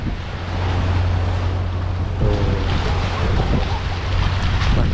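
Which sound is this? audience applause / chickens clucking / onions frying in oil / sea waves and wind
sea waves and wind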